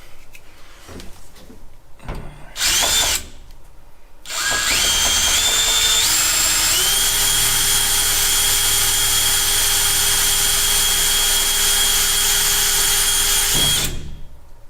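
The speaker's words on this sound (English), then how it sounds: "we're just going to go in there, drill a hole" A few short knocks and a brief whir, then a power drill spins up, drilling a hole in a Ford Transit van roof, running steadily for about ten seconds, rising in pitch before stopping.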